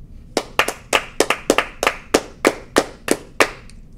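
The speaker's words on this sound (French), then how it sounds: "on va appuyer sur le rond et on va applaudir." A person claps hands close to a microphone while recording a new sound in Scratch, about a dozen sharp, separate claps in an uneven rhythm with short decays, no other sound between.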